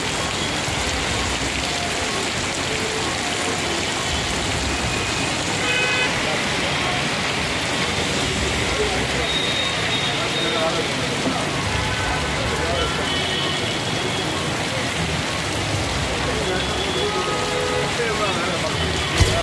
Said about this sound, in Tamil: சென்னையில் பரவலாக மழை பெய்து வருவதால் மக்கள் மகிழ்ச்சியடைந்துள்ளனர்